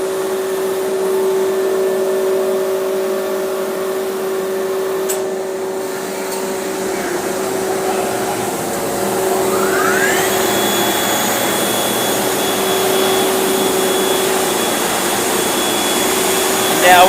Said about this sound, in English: So we have to put the vacuum on.